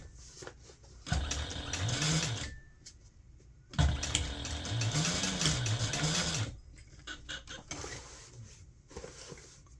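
A sewing machine top-stitches a large fabric gift bag through stabilizer in two loud, close bursts of rapid mechanical stitching, each lasting a couple of seconds and separated by quieter pauses with faint handling noise.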